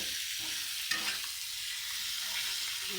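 Meat hits a hot pan and fries with a loud, steady sizzle, a brief clatter as it goes in and continuous crackling hiss after.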